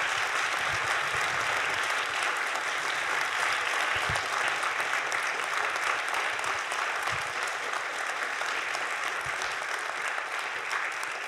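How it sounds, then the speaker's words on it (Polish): Theatre audience at a book premiere in Warsaw's Teatr Studio breaking into loud, sustained applause, a dense wash of many hands clapping steadily with a few low thumps underneath. "wielkie brawa, Jakub Żulczyk."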